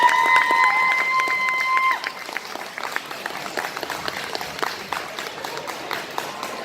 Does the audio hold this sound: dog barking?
no